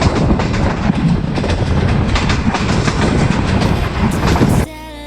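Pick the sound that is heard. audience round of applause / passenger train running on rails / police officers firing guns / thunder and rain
passenger train running on rails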